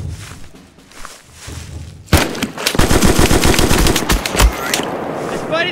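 Loud bursts of machine-gun fire erupt after a quiet opening in the war game Mud and Blood, rapid rattling volleys mixed with single thudding shots, close and continuous for the rest of the clip.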